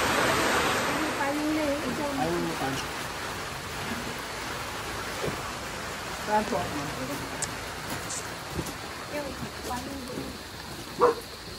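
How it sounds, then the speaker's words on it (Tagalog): Heavy rain pours steadily in rural Asingan, Pangasinan, a dense continuous hiss throughout, with people talking intermittently over it and a brief louder knock near the end. "lumakas yung ulan"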